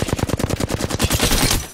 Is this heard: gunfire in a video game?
yes